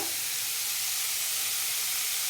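Vegetables for homemade veg noodles frying in a pan, a loud, continuous hiss and sizzle close by with no voices.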